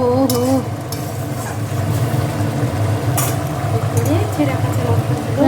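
Fish in a sesame curry gravy bubbles and simmers in a pan, a steady close boiling hiss that runs throughout, with someone talking over it.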